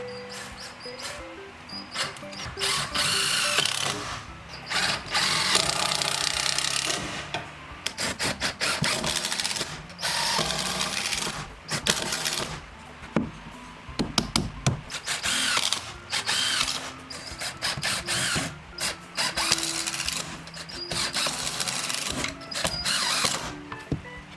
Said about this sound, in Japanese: じゃあビスで斜め打ちで留めていきます。